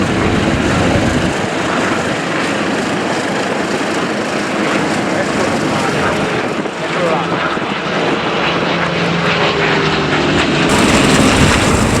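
A vintage aircraft roars past at the Duxford Flying Legends airshow, its engine drone loud and sustained before shifting as it passes, with an announcer talking over it.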